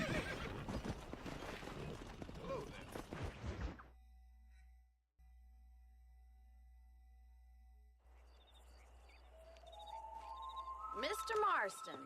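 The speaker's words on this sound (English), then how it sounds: "Let me get on the horse." A horse whinnies and snorts in the video game Red Dead Redemption. Noisy game activity comes first, then near silence with a low hum, and the loud, close neigh rises near the end.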